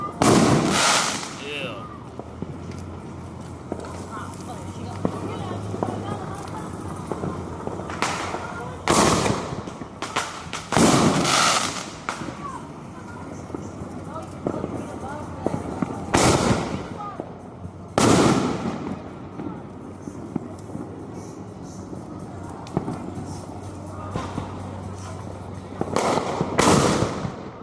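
Fourth of July fireworks in Allentown pop and boom in repeated loud bursts, some crackling in rapid volleys, with an excited voice calling out over them.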